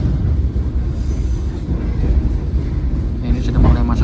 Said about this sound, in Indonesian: kereta api Argo Cirebon yang saya naik ini akan tiba di stasiun akhir, stasiun Tegal